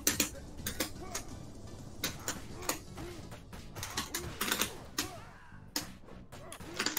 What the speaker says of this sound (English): you're going to hear a lot of clicking because I was initially started out running this game on keyboard, and I've since switched to hitbox